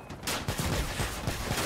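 Rapid gunfire from helicopter-mounted weapons in a video game, a dense continuous rattle of shots with periodic sharper bursts, loud and close throughout.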